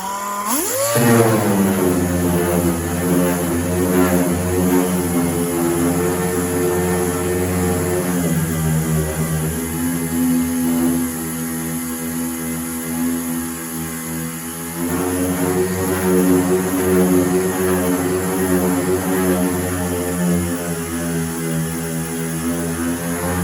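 A dual-action air sander fitted with 80 grit paper works over the body panel of a 1969 GMC, a steady whirring drone with a dip in pitch partway through as the load changes, running continuously and close.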